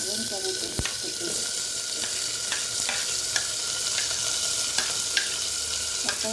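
Onions frying in a pan with a steady sizzle, stirred with a utensil that scrapes and taps sharply every half second or so, close and clear.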